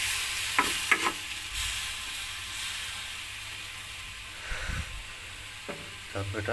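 A curry of sidol fermented fish paste and brinjal sizzles in a pan while it is stirred, with scraping and clinks over a constant hiss and brief speech in the background.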